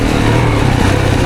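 A 2024 Yamaha YZ450FX dirt bike engine running during a woods ride, a loud, close, continuous motor drone with no talk, heard over a very short stretch.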